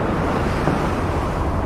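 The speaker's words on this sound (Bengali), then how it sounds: "মেঘের গর্জন, বজ্রপাত, ঢেউ ক্রমশ তীব্র হচ্ছে।" Stormy sea waves surging and crashing during a storm at sea around a small boat, a dense continuous roar of surf with wind buffeting, loud and close throughout with no talk.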